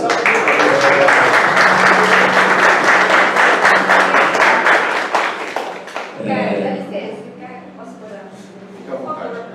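A crowd at a blog anniversary event applauds a city councillor in loud, dense clapping that fades after about five seconds, followed by a voice speaking over a lingering hum.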